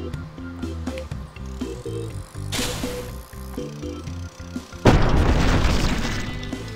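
A mine blows up in the physics game Guts and Glory, a loud sudden boom bursting in over a busy rhythmic game soundtrack and lingering as a rumbling roar, with an earlier shorter blast partway through.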